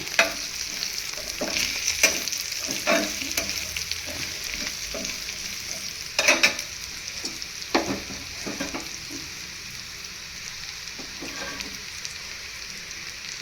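Broad beans curry fries in a pan, a steady close sizzle broken by repeated scraping and clacking stirs of a spoon that thin out toward the end.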